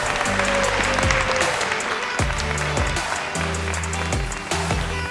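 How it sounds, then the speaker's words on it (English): A conference crowd claps loudly and steadily, a dense wash of applause that carries on for several seconds. "Please give him a large round of applause and welcome to the stage, Simon Devitt."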